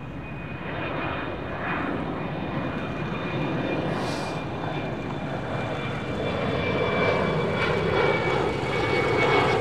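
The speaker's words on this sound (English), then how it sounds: "Is that all Nippon jet coming out?" An All Nippon Airways jet taxiing out at Chicago O'Hare airport, its engines giving a steady, loud, broadband roar with a high whine that builds slightly over about ten seconds, heard alone without talk.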